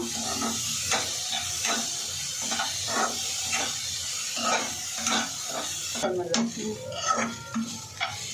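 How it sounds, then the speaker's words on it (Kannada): Momo filling fries and sizzles in a pan while a utensil stirs and scrapes against the metal in repeated strokes, with a steady hiss beneath and clinks growing busier near the end; a voice is briefly audible. "ಚೆನ್ನಾಗಿ ಫ್ರೈ ಆಗಬೇಕು."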